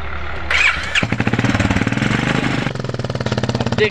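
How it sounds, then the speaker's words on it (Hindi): A Royal Enfield Bullet motorcycle being ridden through a farm field, its engine thumping in a loud, close, rapid rhythmic beat that kicks in after a brief lull and holds steady. "अब बुलेट से खेत जोतने जा रहे हैं"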